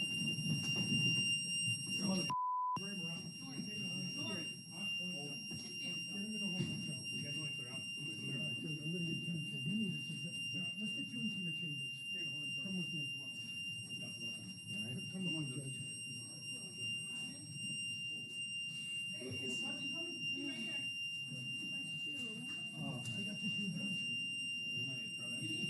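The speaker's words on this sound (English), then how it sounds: "that alarm did take a while to go off" A neighborhood alarm sounds as a continuous high-pitched electronic tone running steadily under a long stretch of conversation, with one brief louder beep early on.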